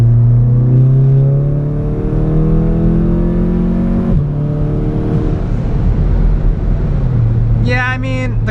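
A Stage 2 tuned VW Golf R accelerates hard in fourth gear, its engine drone climbing steadily in pitch for several seconds, easing briefly, then rising again, heard loud from inside the car.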